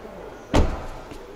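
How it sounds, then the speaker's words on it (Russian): The door of a 2021 Hyundai Creta, base Classic trim with manual gearbox and all-wheel drive, shuts once with a close, solid thud, followed by a faint second knock. "Ну и смотрите, дверь."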